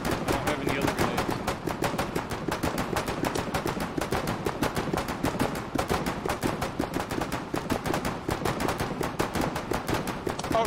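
Rapid, continuous gunfire in the war game Foxhole: dense machine-gun-like bursts crack loudly and close by for the whole stretch, with hardly a pause between shots.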